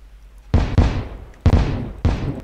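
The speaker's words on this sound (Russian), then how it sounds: "Да, 3 пушки уже стреляют" Four heavy booming cannon blasts in a Terraria pirate boarding battle, in quick succession, each with a sharp attack and short decaying rumble, loud and close.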